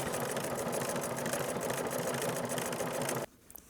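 A sewing machine with a circular attachment stitches decorative patterns on a scrappy fabric coffee mat, its steady, loud motorized whir running continuously for about three seconds before stopping abruptly.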